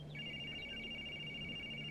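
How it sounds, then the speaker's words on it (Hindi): A telephone rings with a thin, steady electronic tone and a few short chirps over a low background hum, with no voices. "कोकिला अपने खानदानी पंडित जी को फोन लगाती है।"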